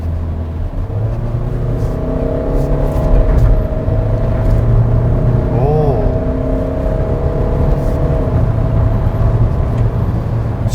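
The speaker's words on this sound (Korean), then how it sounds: "가속을 한번 해보는데요." A Hyundai Santa Fe or Kia Sorento SUV accelerates on a highway, its engine drone rising with a brief whine as it downshifts, steady road noise underneath, heard from inside the cabin.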